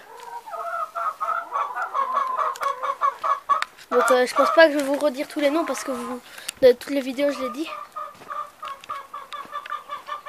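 Small semi-bantam hens cluck and murmur nearby indoors, a busy run of short calls and squawks, while someone talks over them.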